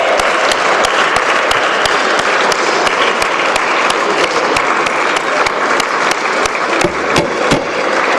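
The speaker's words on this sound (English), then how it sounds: "They definitely deserve a round of applause." Startup festival audience breaking into applause, a loud, continuous patter of many hands clapping with sharper individual claps standing out, steady from start to finish.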